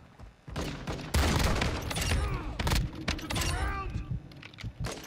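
Shotgun gunfire rings out in a first-person shooter game as a dense, loud volley of blasts with sharp reports and ringing tails, mixed with other in-game action and continuing for several seconds.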